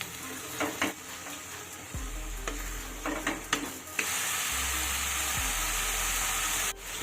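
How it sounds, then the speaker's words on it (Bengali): Spice masala with a splash of water frying and being stirred in a pan for a ridge gourd dish: a steady close sizzle broken by scraping strokes of a spoon, with no talking. "এবার সবটা মশলা ভালোভাবে নেড়ে চেড়ে বেশ কিছুক্ষণ কষিয়ে নিতে হবে"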